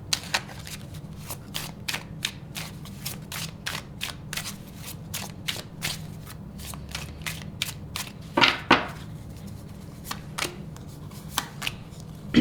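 Tarot cards being handled and laid out during a reading: a rapid series of crisp snaps and flicks, close and fairly faint, with a brief louder shuffle burst partway through.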